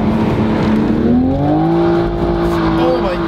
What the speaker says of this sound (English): they're Michelin Pilot Sport 4s, so very expensive tyres that we're destroying here